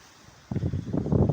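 Faint background hush, then a sudden roar of gusty storm wind in an olive grove buffeting the microphone, loud and continuous, with rustling mixed in.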